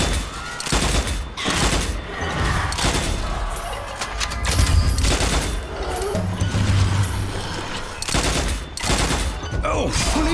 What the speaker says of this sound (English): The twin shooter! Now you can shoot the same target twice!